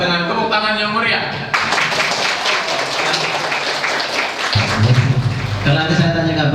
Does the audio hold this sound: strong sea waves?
no